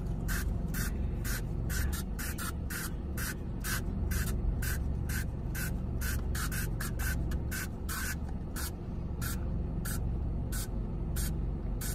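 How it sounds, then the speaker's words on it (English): Twenty or so quick, evenly spaced pumps of a sour spray bottle misting into a green plastic solo cup, each a short sharp hiss repeating steadily over a low background hum, close and fairly loud. "how many sprays are you spraying? Let's spray 20."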